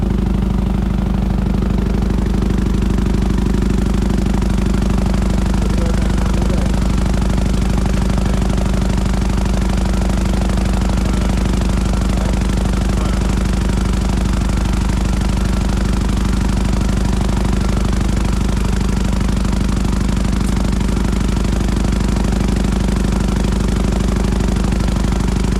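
Newly installed finishing machine running with no compound applied, a steady loud droning hum with faint rattling that carries on unchanged throughout.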